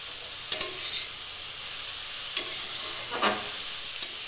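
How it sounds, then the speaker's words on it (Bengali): Vegetables for vegetable kofta fry gently in a pan, with a faint steady sizzle and a few sharp spatula scrapes and knocks at irregular intervals, no talking. "এভাবে ভাজতে ভাজতে সবজিগুলো প্রায় অর্ধেক সিদ্ধ হয়ে যাবে।"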